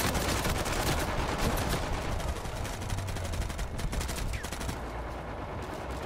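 Gunfire in a ranked video game match, rapid bursts of automatic shots and scattered single cracks crackling steadily throughout, fairly faint and alone with no talk.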